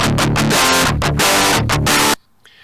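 Harsh, fizzy distorted electric guitar through a Thermionix JCM 800 amp head with no cabinet, loud rhythmic chords for about two seconds before stopping abruptly.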